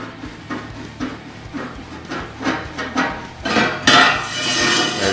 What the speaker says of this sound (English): grab a hold of this end cap, give it a twist, break it loose, and then work it out